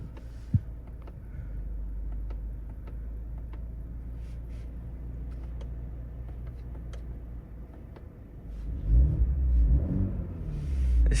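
A 2022 BMW M240i with its stock exhaust rumbles steadily from inside the cabin while driving, a low constant engine drone that swells briefly near the end as it accelerates, with no talk.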